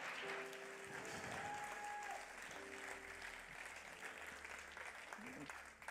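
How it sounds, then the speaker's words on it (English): Church congregation applauding after a baptism and testimony service, a steady wash of clapping filling the room for several seconds with faint voices and a few tonal background sounds underneath. "let's give them another shout, round of applause."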